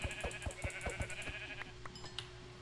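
Sheep bleating in Minecraft, several short bleats in a quick rhythmic run, quiet against faint game sounds.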